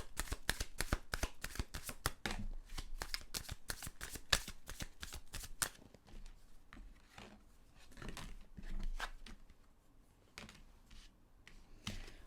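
Tarot cards are shuffled close up, starting with fast crisp riffling snaps and moving into softer, looser shuffling and sliding, with no voices.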